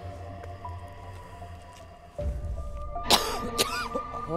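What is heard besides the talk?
coughing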